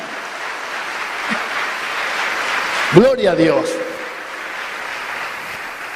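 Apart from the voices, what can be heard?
applause for the Lord in church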